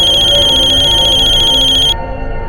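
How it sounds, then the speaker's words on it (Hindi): A telephone ringing with a steady, loud electronic trill that cuts off abruptly after about two seconds, leaving low background sound. "फोन उठाओ वीरेन, फोन उठाओ"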